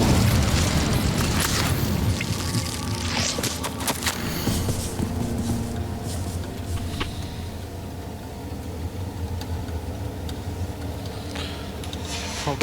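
The Incendio fire spell in Hogwarts Legacy erupts as a loud, roaring burst of flame that fills the sound at once, then slowly thins into a steady rumbling whoosh that holds for several seconds.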